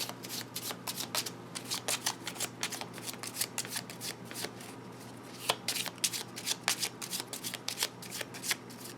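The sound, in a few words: shuffling a deck of cards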